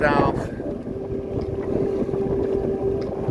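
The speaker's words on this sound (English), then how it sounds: "And the wind's coming straight at us over there." Wind buffets a sailboat's microphone on the water in New York, a loud rushing roar with low rumbling gusts and a faint steady tone underneath, starting with a brief noisy burst.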